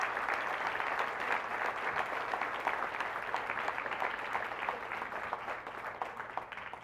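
Sustained audience applause follows a candidacy announcement for the United States House of Representatives, a dense steady clatter of many hands clapping throughout, fairly loud and unbroken, with no speech over it.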